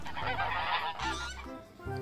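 Toy goose giving off a loud, close honking call, several nasal honks in quick succession over about two seconds with no talking.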